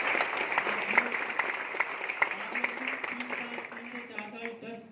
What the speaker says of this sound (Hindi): एक बार जोरदार ताली हो जाए सभी लोग